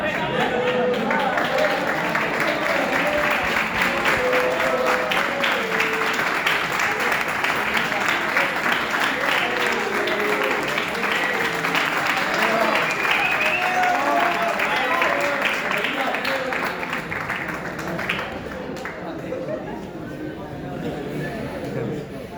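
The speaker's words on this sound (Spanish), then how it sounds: "No hay nada mejor que aplaudan a un profesor." Audience applauding a teacher at a Spanish-language event, sustained dense clapping lasting about twenty seconds, loud and steady before thinning slightly near the end, with voices mixed faintly underneath.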